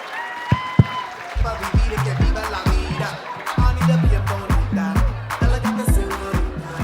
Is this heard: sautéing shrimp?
no